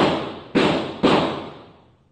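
Three sharp firecracker bangs go off about half a second apart. Each is a loud, close crack with a long fading tail, and the last dies away slowly.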